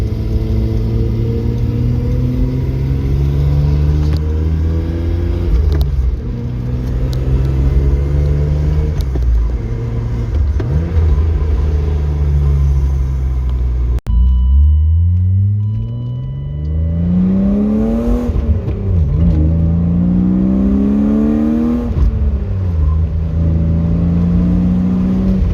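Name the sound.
BMW E36 M3 car driving with short shifter installed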